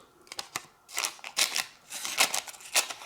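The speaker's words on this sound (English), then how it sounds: "scissors work great" Repeated crisp snips of scissors slicing through thin receipt paper, several quick cuts in an irregular rhythm, close and fairly loud with no talking.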